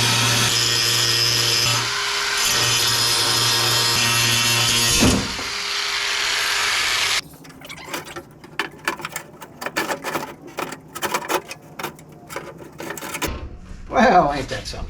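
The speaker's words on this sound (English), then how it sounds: "Time for the grinder." An angle grinder cuts through a bolt on the window regulator of a 1971 Firebird door, a loud sustained whine for several seconds before it winds down, followed by scattered clanks and rattles of metal parts.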